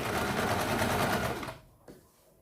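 An electric sewing machine stitching a seam on a blouse, a loud, close, rapid whirring rattle that runs steadily for about a second and a half, then stops, leaving a faint click.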